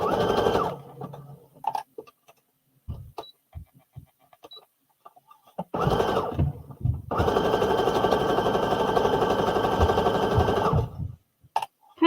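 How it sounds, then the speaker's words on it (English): A sewing machine stitches along a fabric edge while making a Simplicity S9456 pattern, running in a short burst, pausing amid quiet handling clicks, then humming steadily and loudly for several seconds before stopping. "Now we are just going to sew along this edge to keep that in place."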